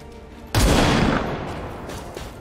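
XCOM 2 gunfire: a sudden loud burst of shots bursts in after a quiet moment, then rolls off into a fading, rumbling tail.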